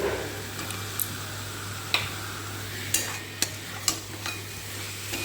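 A spoon stirs mushroom curry with chili powder, meat masala, turmeric and tomato in a pan, sharp scraping clicks landing every second or so over a soft continuous sizzle and low hum.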